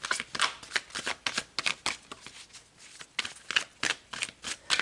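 A deck of tarot cards being shuffled close up, riffling in quick repeated bursts of papery flutter with brief pauses between, no talking.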